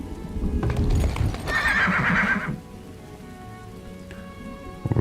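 A horse in the village-building game Farthest Frontier neighs loudly over a light patter of rain and clip-clopping hooves, then the whinny cuts off and soft rain and a few hoof taps remain.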